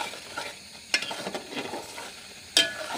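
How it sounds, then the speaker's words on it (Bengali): Spices with a half spoon of coriander powder are stirred in a pan, giving soft scraping and low sizzle with two sharp utensil knocks against the pan. "আর দিয়ে দিব 1/2 চামচ ধনিয়া গুঁড়ো। ভালো করে নেড়ে নিব।"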